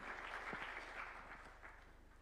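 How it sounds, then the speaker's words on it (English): An audience claps in a steady patter of applause that fades slightly toward the end, with a faint electrical hum underneath. "Kindly, let's welcome him with a clap."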